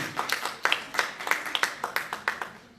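Scattered hand clapping from an audience at a talk, a thin, uneven run of distinct claps at moderate loudness rather than a full ovation.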